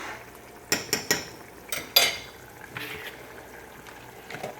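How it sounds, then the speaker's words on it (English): A small teaspoon clinks and scrapes against a pot of Barbadian cou cou. A few sharp metallic taps come in a quick cluster, then softer stirring scrapes follow, close up, with no talking. "Stir, stir."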